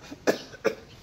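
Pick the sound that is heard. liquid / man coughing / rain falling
man coughing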